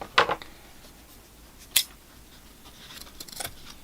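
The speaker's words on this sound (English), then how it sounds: "I'm going to cut one big drainage screen for the bottom of this pot." Scissors snipping a drainage screen for the bottom of a bonsai pot: three crisp, separate cuts, close and clear against a quiet room.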